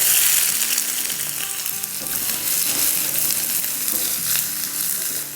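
Red bell pepper sizzles steadily in a frying pan, a continuous close, bright hiss with occasional stirring scrapes and no talking.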